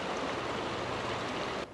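Clear Creek flows with a steady broadband rush of moving water, close and continuous, stopping abruptly near the end with no voices.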